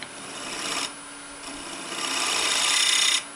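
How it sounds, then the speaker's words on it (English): Steady, close-up rasping of sandpaper on a wooden plate being turned on a lathe, in continuous strokes, with brief pauses between passes and no talking. "It needs a little sanding."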